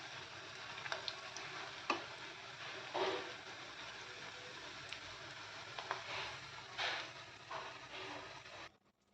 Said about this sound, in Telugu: ఫ్రై అవుతున్నాయండి